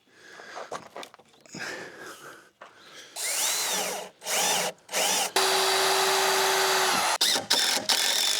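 A power drill drives a screw into trailer wood in bursts: short stuttering runs, then a longer whirring stretch with a steady motor tone, separated by brief pauses and handling noises.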